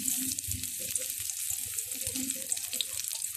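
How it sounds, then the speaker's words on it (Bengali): Chopped onions sizzle and fry in hot oil in a wok, a steady close crackle with occasional stirring scrapes, quiet and with no talking. "পেঁয়াজটাকে সুন্দর করে ভেজে নেব"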